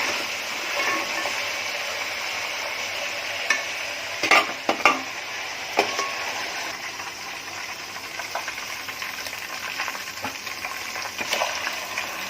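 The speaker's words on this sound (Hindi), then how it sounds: "ये अपना दूसरा चिकन है उसको भून के लूंगी" Chicken pieces frying in hot oil in a pot, stirred over a high flame for a malai handi, a steady sizzle with scraping spoon strokes and a few sharper knocks of the utensil against the pan.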